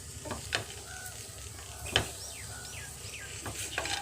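Washed poha mixed with fried peanuts, garam masala and coriander leaves frying in a pan for poha pulao, with a soft sizzle under a few scraping stirs of a spatula, close and quiet.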